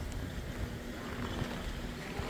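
Strong wind roars steadily during freezing rain on a cold-snap day in Canada, a dense low rumble of gusts buffeting the microphone with no voices.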